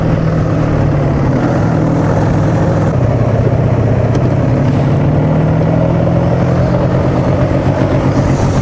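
Quad ATV engine running steady and loud, a continuous close droning rumble with a slightly uneven tone, not running perfectly, with no talk over it.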